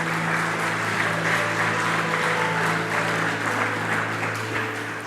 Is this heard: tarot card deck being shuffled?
no